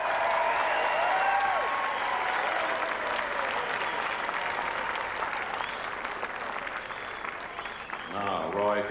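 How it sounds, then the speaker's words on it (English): A studio audience at a 1985 UK game show applauds and cheers a contestant climbing a ship's mast, sustained clapping and crowd noise with a voice talking over it before it fades. "How about giving him an encouraging cheer,"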